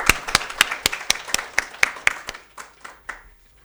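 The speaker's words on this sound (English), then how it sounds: "I really want a warm round of applause for them" Audience applause at the concluding session of a conference, heard as a string of sharp, distinct claps in a fairly regular rhythm that thins out and fades toward the end.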